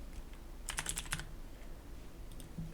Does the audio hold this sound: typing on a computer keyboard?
yes